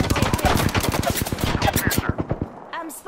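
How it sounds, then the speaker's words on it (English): Rapid bursts of automatic gunfire in a shooter video game, a fast loud rattle of shots for about two seconds, then trailing off into a quieter electronic tone. "I'm spotted, taking fire."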